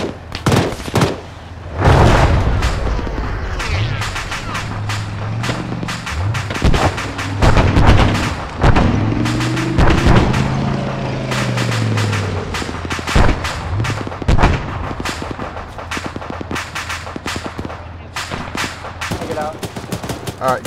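Rapid bursts of gunfire and heavy explosions from an ArmA 3 military battle game, loud and dense throughout, with sustained automatic fire and booming blasts, and a voice talking over the fighting.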